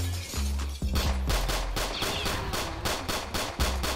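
Rapid gunfire in a Roblox hood roleplay game crackles in quick bursts, a string of sharp repeated shots close and loud, several overlapping in fast succession.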